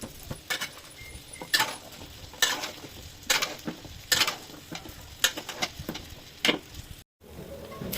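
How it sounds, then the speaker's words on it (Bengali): Onions fry lightly in a pan under a soft continuous sizzle, with sharp scraping stirs of a utensil against the pan recurring every second or so, close by. "পেঁয়াজগুলো হালকা করে ভেজে নিতে হবে"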